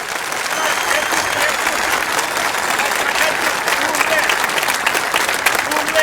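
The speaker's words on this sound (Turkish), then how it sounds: "En kuvvetli alkışlar onlara gelsin." Loud, sustained applause from a large crowd at a political rally in Turkey, cheering an orchestra, dense and continuous clapping filling the whole stretch.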